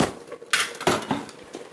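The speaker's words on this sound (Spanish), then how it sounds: "batimos los huevos, así" Eggs are whisked in a bowl for a Moroccan chicken briouat filling, with a few sharp clinks of the whisk against the bowl in an irregular rhythm, close and fairly loud.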